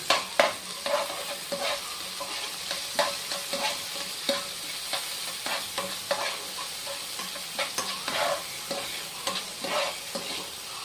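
Chopped tomato sizzles and fries in a hot pan for chicken binagoongan, with repeated stirring scrapes and clatters breaking through a steady close-up crackle.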